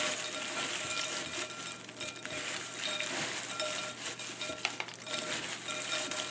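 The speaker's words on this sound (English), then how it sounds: "I'm going to rub it, and I'm just going to butter these crackers just like this." Hands rubbing butter over a pile of oyster crackers, giving a steady, close, dry rustling and scraping that runs continuously with small crunchy clicks and no talking.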